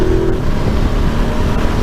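A 2019 Ducati Multistrada Enduro 1260 motorcycle engine pulls hard out of a curve, a loud, close, sustained roar that holds steady for the whole short stretch.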